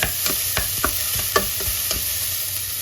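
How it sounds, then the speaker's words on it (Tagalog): Onion and garlic sautéing in a hot pot, a steady sizzle broken by repeated sharp scraping stirs of a utensil against the metal, close and alone with no talk. "So, igigisa lang natin ng kaunti."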